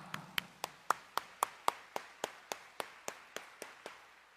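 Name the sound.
congregation applauding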